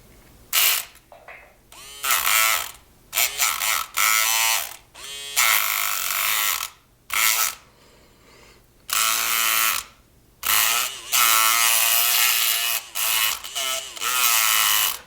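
A lock being picked with a tension wrench gives close, loud bursts of buzzing, ratcheting metal rattle that start and stop in irregular spurts with short pauses between them.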